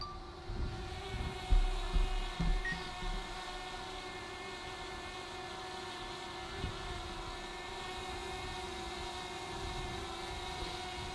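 DJI Mavic Air drone flying, a steady high propeller whine with a low rumble underneath, a few bumps of handling noise early on, then a constant moderate hum throughout with no talking.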